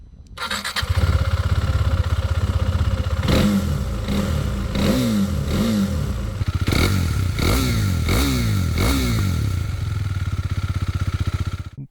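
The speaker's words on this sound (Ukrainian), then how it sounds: "Давайте з вами послухаємо двигун." A KTM 390 Duke single-cylinder motorcycle starts up and idles, then is blipped through a series of sharp revs that rise and fall, loud and close, before settling back to a steady idle.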